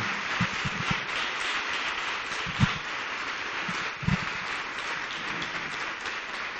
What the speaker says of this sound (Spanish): Aplaude fuerte, deja tu Tanay, y apláudele con todo tu corazón.